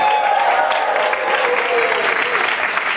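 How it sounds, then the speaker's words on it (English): Sustained applause from an audience for a person brought on stage at a COP21 climate conference event, a dense, steady clapping wash filling the whole stretch with no speech over it. "Please give Garrett a round of applause"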